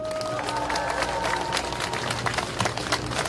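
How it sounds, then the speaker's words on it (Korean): Crowd applause at an outdoor campaign rally near Seokchon Lake in Songpa, Seoul: scattered clapping and faint cheering over street ambience, with some voices mixed in, fairly loud and continuous. "박수 한번 주십시오."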